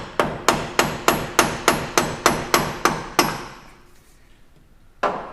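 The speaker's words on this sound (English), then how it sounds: "Now give the drive shaft a little tap." A hammer taps a Toyota Tacoma drive shaft loose during a suspension lift install, striking ten sharp metallic blows in an even, quick rhythm. A pause follows, then one more strike. The sound is close and loud, with no talking.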